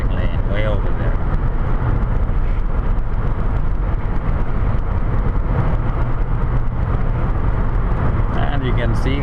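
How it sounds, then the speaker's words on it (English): Cars speeding past on a four-lane highway at around 120 to 130, heard as a loud continuous road and wind roar from inside a moving car, with someone talking over it throughout. "You can see cars just flying by me"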